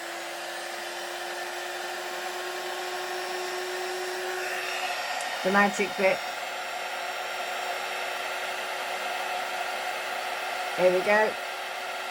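A heat embossing tool blows hot air over embossing powder on a die-cut Christmas card, a steady loud whirring hiss throughout, with two short bursts of talk over it.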